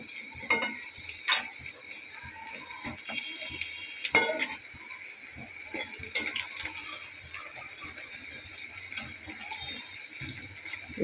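Onion boras coated in gram flour and rice flour sizzling in hot oil, with scattered clinks and scrapes as the fritters are turned over; a steady, moderate frying hiss with brief sharper knocks, no talking.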